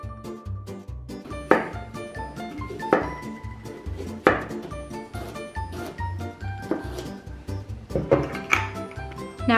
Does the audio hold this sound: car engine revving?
no